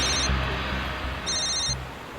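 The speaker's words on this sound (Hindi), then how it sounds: "विनीत का फोन।" A telephone rings indoors with two electronic bursts separated by a brief pause, clear and moderately loud against a low background hum.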